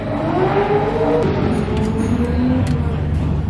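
A small RC drift car motor whines steadily at high pitch, its tone rising and falling slightly as it keeps running close by.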